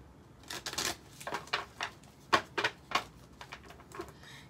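Tarot cards being shuffled over and over by hand, a quiet run of soft, irregular riffling bursts with short pauses between them, close to the listener and without talk.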